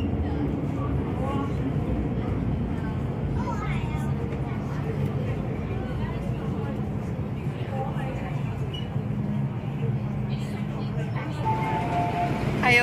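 A train pulls into a station in Hong Kong with a continuous rumbling, hissing roar, steady and fairly loud, while people speak faintly in the background.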